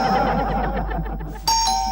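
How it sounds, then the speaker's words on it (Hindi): A doorbell chimes once in a home during a couples comedy show scene, a bright two-tone ding-dong that starts abruptly after a stretch of busy background sound and rings out clearly. "कब से डोरबेल बज रही है"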